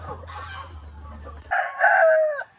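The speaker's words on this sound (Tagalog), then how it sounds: "Ito yung rooster mga ka-farmers na isasalang natin o ibabalik doon sa breeding pen" A white leghorn rooster in a breeding setup gives one loud, close crow in the second half, after a stretch of low background rumble and faint noise.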